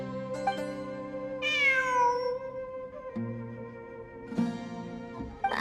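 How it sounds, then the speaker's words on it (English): A cat meows among ruins in a series of drawn-out, tonal calls, close and clear, with a rising cry in the middle and fainter calls later, no talking. "It really is a cat."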